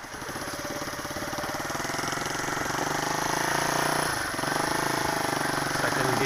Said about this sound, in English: As you can hear the engine, it's really quiet now, but it's still running